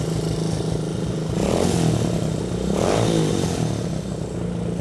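A homemade buggy engine runs steadily and close, swelling into two distinct revs about a second apart before settling back to a throbbing idle, with no talking.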